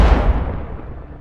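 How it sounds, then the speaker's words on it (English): A drone strike sets off the ammunition aboard a Russian armoured personnel carrier, one loud, close blast that booms and then rumbles away over about a second. "A third drone hits the Russian APC and the ammunition on board ignites, intensifying the explosion."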